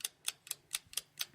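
A clock ticks off a 60-second countdown during an interview, six crisp, evenly spaced ticks about a quarter second apart, close and fairly quiet with no voices over them.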